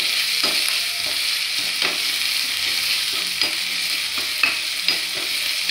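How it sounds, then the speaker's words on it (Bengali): Chopped tomato frying in hot oil with bay leaf in a pan, a continuous bright sizzle close by, punctuated by several spoon-stirring knocks, with no voices. "টমেটো কুচিটা দিয়ে দিলাম।"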